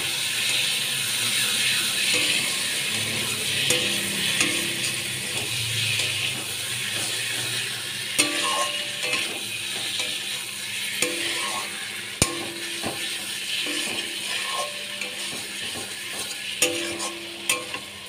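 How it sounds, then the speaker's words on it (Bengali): Potatoes and eggs sautéing in a pan, a steady close sizzle under repeated scraping stirs and occasional sharp spatula clicks against the metal. "আলু ডিম দিয়ে আমি ভালো করে কষিয়ে নেব।"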